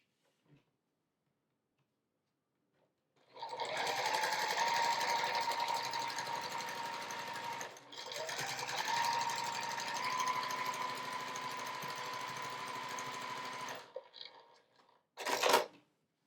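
A sewing machine runs steadily while stitching strips onto a quilt block. A click precedes the motor, which then whirs for about four seconds, pauses briefly, runs on for about six seconds, stops, and finishes with a short final burst.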